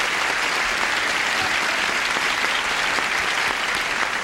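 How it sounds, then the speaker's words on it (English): A 1978 game-show studio audience applauds, a dense, sustained wash of many hands clapping at an even, loud level from start to finish. "Applause."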